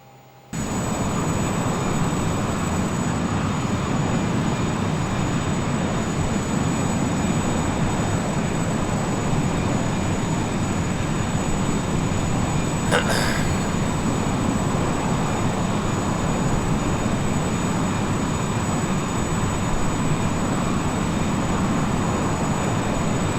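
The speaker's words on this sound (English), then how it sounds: "you see that aircraft going by" An aircraft passing by, heard from inside a small plane in flight: a constant loud engine drone fills the whole stretch, with a brief faint whine of the other aircraft partway through.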